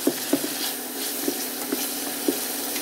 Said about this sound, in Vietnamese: Rồi mình xào.